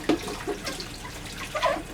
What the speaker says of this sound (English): Rinse the outside real good.